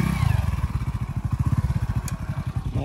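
A motorcycle engine runs close by with a steady, rapid thumping idle pulse throughout, loud and alone with no talk.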